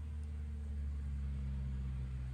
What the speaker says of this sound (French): Je vois une voiture passer, je suis fasciné.